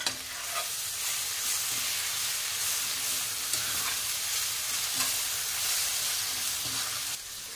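Pav bhaji masala with bedgi and red chilli powder stirs and fries in a pan, giving a continuous close sizzle with soft scraping strokes throughout before easing slightly at the end.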